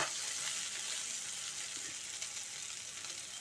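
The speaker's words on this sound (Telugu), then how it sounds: "అడుగంటకుండా ఫ్లేమ్ కొంచెం పెద్దగానే పెట్టి వేయించుతున్నానండి" Okra fries in a pan over a high flame, a steady close sizzle and hiss that continues without pause, with no talk.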